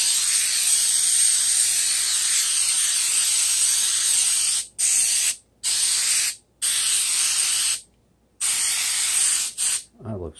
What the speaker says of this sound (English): Got my coconut spray.